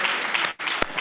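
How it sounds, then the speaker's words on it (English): Applause from a conference audience at a heritage and tourism gathering for a group, a steady dense patter of many hands with a brief break midway, close and fairly loud. "Let's give that group a round of applause."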